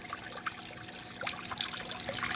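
Water trickles and splashes down into a small pool in an aquarium waterfall tank, a continuous close bubbling patter with scattered brighter drips, no voices.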